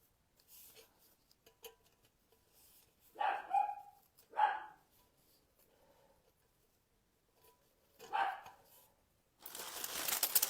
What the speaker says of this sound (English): Now she's going to decide to bark on us.